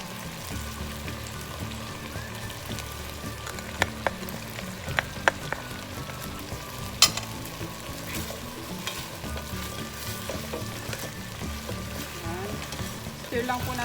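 Chicken pochero with fish sauce and black pepper being stirred as it fries in a pan, a steady close sizzle with scattered scraping clicks of a utensil against the pan.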